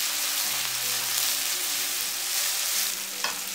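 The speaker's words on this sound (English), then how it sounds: "Now we are going to cook the onions for about 2 to 3 minutes until they are golden brown in color." Onions with red chili powder sizzle steadily in a hot pan, a dense continuous frying hiss with occasional stirring scrapes near the end.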